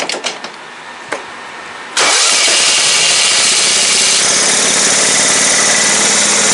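An old Craftsman lawn mower converted into a lifted garden tractor fires up after a couple of cranking bursts, its engine catching and then running loud and steady up close.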